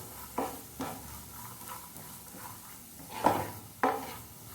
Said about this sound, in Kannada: ಸ್ವಲ್ಪ ರುಚಿಗೆ ಉಪ್ಪು ಹಾಕಿ ಎಲ್ಲವನ್ನು ಫ್ರೈ ಮಾಡ್ಕೊಳ್ಳಿ.